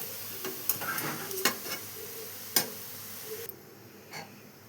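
Cut boiled eggs are stirred in a pan over faint sizzling, with a few soft scrapes and taps of the spoon against the pan.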